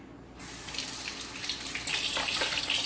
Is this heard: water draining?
yes